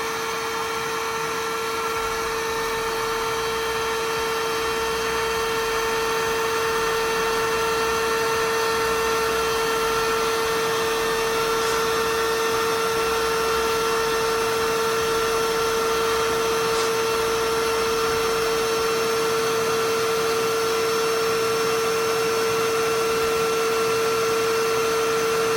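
The built-in electric pump of a Vevor inflatable camping cot hums steadily and loudly as it deflates the mattress, a constant motor drone with a steady tonal whine running unbroken throughout.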